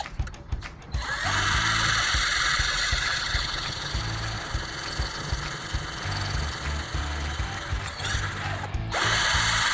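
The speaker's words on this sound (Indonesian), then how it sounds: "Di sini saya coba mengebor tanpa pelumas ya." A Tosita cordless drill bores into 3 mm iron without lubricant, giving a loud, steady motor whine with a grinding edge. It runs almost continuously, with short breaks at the start and just before the end.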